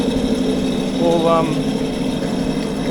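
A jet ski engine idles while warming up after a cold start, a low steady rumble running throughout, with a brief rising rev in the middle.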